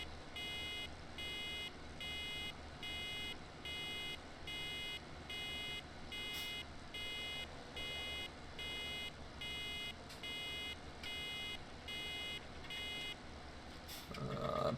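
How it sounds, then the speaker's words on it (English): Repeating electronic buzzer from a round baler in Farming Simulator 17, sounding in regular on-off pulses over a steady low tractor engine drone, ending with a louder mechanical rumble. "Once the buzzer stops there, the net wrap starts"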